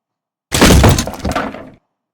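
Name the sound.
wood-hit destroy sound effect for breaking tables in a Roblox Rooms-style game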